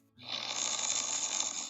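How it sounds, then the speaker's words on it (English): A person snores close by, one long, steady, raspy breath drawn in over a low rumble, clear and fairly loud with no talking. "Who is snoring?"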